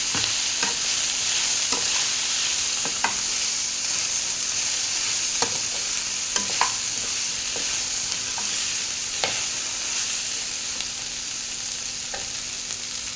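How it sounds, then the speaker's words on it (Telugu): Fried peanuts and a ridge gourd mixture are stirred in a hot pan, a steady close sizzle running throughout with regular scraping spoon strokes and light clinks every second or so. "ఇప్పుడు మొత్తం కలిపేసి చేసుకోవాలి."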